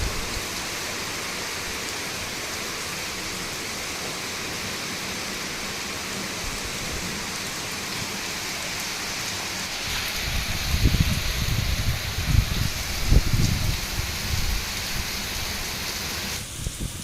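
Rain falls outside a balcony on a wet day, a steady broadband hiss of downpour with heavier low rumbling gusts swelling midway.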